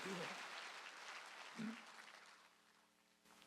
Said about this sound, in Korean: 빨리 박수 치라 이게야